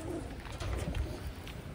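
Pigeons newly arrived from Taiwan, including off-colour birds, coo in a low, steady murmur that runs the whole time at moderate volume, with a faint airy hiss above.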